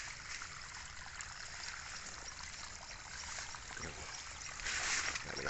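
Water runs steadily into a flooded rice paddy, a continuous close trickle and gurgle with a louder splashing swell near the end and no talk.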